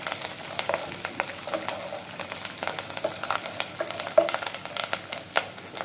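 Finely chopped green chillies and eight to ten curry leaves fry in a pan for a veg curry. A light sizzle runs under frequent sharp taps and scrapes of a spoon mixing them, and nobody speaks.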